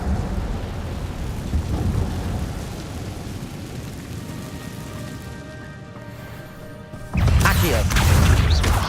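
Spell effects being cast in the Hogwarts Legacy video game, a dense roar of magical bursts and rushing noise that surges louder near the end, with mechanical tones ringing through the middle.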